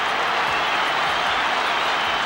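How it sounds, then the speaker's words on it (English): A football crowd at Princes Park, Essendon against Carlton, roars and applauds in a loud, continuous wall of cheering. "Listen to that crowd."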